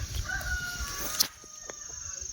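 An F2 fighting rooster crows at moderate distance over steady background noise. The call is partly masked and ends abruptly, followed by a quieter stretch with faint ticking.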